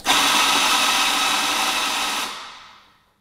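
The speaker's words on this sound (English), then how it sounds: "To activate the grinder, just put your portafilter in and press the backplate." A Eureka Olympus On Demand coffee grinder runs into a portafilter with a steady, loud, close whirring grind for about two seconds, then winds down and stops, with no talking.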